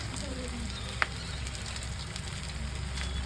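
Prawn malai curry sizzles and fries softly in a pan while a spatula stirs it, giving a faint steady crackle and a single sharp tap of the spatula near the start.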